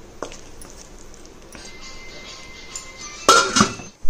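A metal spoon clinks against a kadai while tomato puree is stirred for kadai mushroom, soft scraping broken by a few sharp metallic knocks near the end, close to the mic.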